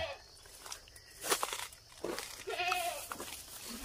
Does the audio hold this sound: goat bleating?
yes